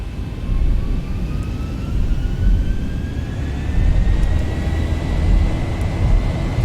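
Jet engines on a Zibo Boeing 737-800 roar steadily through a manual takeoff in X-Plane 11, with a thick low rumble and a faint rising whine.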